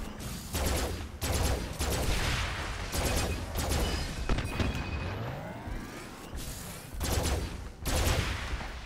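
Alien Warfare gunfire in the VR shooter Farpoint on PSVR, repeated loud bursts of rapid automatic fire separated by short pauses, close and punchy.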